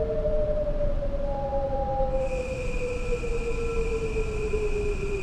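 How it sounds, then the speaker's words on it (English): Metro North M8 electric commuter train braking hard from speed near Pelham in Train Sim World 6, a long descending tonal whine joined midway by higher steady brake squeals over a continuous rumbling rail roar. "We're going to slam on the brakes, though"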